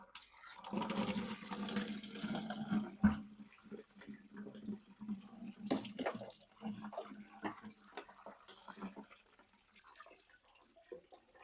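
Liquid gushes and splashes out of a BMW N51 crankcase breather (CCV) on an E88 128i as it is popped open. A burst of rushing fluid comes first, then fainter trickles and drips, with no talk.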